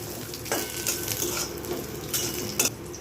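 Grated coconut sautés in a pan with cloves, giving a soft sizzle broken by repeated scraping stir strokes and light clinks of a spatula against the metal.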